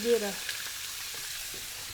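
Bacon sizzles on a hot Monument Mesa II 415BZ grill with a steady crackling hiss, loudest at the start and then settling into a soft, constant frying sound.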